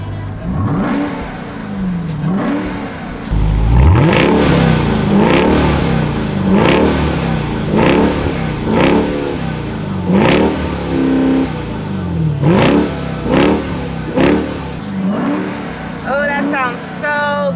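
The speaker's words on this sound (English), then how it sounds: "hear what it sounds like when I put foot on the gas" A 2021 Dodge Durango SRT Hellcat engine revs repeatedly, rising and falling in pitch with loud surges of acceleration, close up, with brief talk over it.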